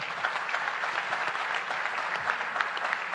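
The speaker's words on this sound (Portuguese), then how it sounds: "Eu gostaria de pedir uma salva de palmas." An audience at a Mozambican independence tribute gives a round of applause, an even, continuous patter of many hands at moderate volume with no voices over it.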